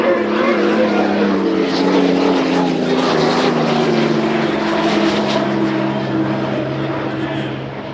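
Piston and turbine racing boats scream past at full throttle during a final heat at the 2014 Evansville Shriners Festival, a loud, continuous engine roar with shifting pitch as the boats run the course, and an announcer's voice underneath.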